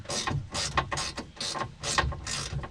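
Ratchet of a socket wrench clicks in quick repeated bursts while tightening a rear-view mirror bracket nut on a 2017-2020 Polaris Ranger, close and steady with no talk.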